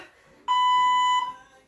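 A workout interval timer gives one clear, steady electronic beep lasting under a second, sounding alone in a quiet room.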